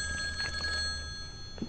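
A telephone in a horror game rings with a high, thin electronic tone that sustains steadily over a low, droning ambient hum, with no voices.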